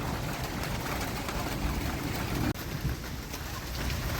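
Heavy rain with hail pouring steadily, a dense broadband hiss with no break except one tiny dropout.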